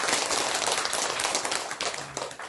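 Audience clapping at a 2019 Atomy company assembly in Korea, a dense steady wash of many hands filling the room for the whole stretch with no voices over it.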